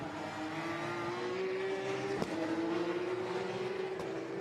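Porsche race cars at Zandvoort during a Porsche Sprint Challenge Benelux race, a steady engine drone rising slowly in pitch, with a sharp click midway and constant track noise throughout.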